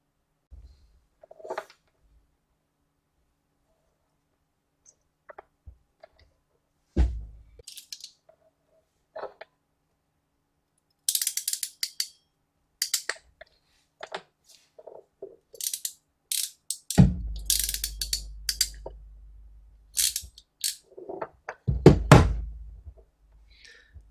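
Crimping a terminal onto a damaged power tool cord: sparse, sharp clicks and ratcheting snaps of the crimp tool up close, with a heavier squeeze and crunch toward the end, separated by quiet gaps.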